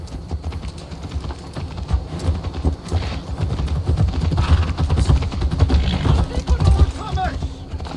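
Horse hooves clip-clopping in Assassin's Creed Valhalla, a steady trotting beat over a busy game soundscape, with a voice speaking over it.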